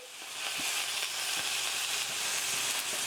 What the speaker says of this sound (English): We're going to sear the other side.